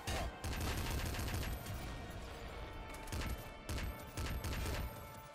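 Rapid bursts of video game gunfire from Nuclear Throne, a dense loud fusillade of repeated shots that runs almost the whole time, with brief swells of heavier firing near the middle and end.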